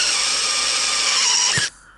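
A drill turns a 1.25-inch hole saw, giving a close, steady whirring grind that stops abruptly near the end, with no voices.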